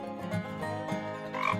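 Cartoon frogs croak in a steady run of throaty, rhythmic calls, close and prominent with no talking, like little frogs hopping on lily pads beside a pond.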